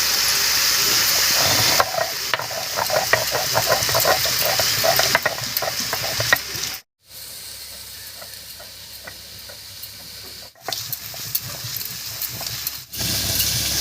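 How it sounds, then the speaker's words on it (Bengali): Onions sizzle and crackle steadily in a hot pan, a dense frying hiss with occasional stirring clatter, close and alone, briefly dropping out twice. "পেঁয়াজটা ভাজা ভাজা হচ্ছে"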